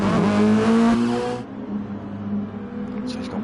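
A race car engine in a Toyota Concept Cup racing game at Brands Hatch Indy circuit pulls out of the pits with a steady drone that fades after a second and a half, leaving a quieter engine hum behind.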